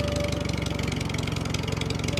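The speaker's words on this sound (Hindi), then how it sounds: "जब टोनी चिड़िया खेतों का काम खत्म करके ट्रैक्टर चलाकर अपने घर को जाती है" A tractor engine idles with a steady low, throbbing chug, its fast pulses repeating evenly and close by for the whole stretch.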